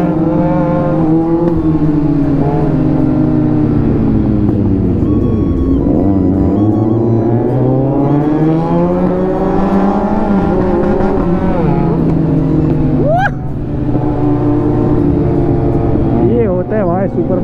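A Kawasaki Z900 motorcycle engine revs loudly and close by, its pitch rising and falling through repeated throttle blips, with people talking over it.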